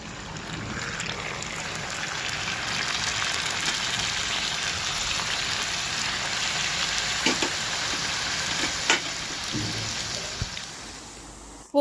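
Rava puri deep frying in hot oil makes a continuous bubbling sizzle that runs for about twelve seconds at moderate level, with a few soft clinks and stirring taps near the end.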